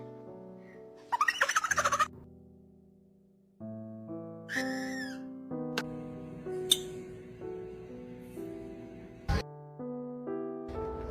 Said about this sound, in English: Pretty birds, Angus and Charlie.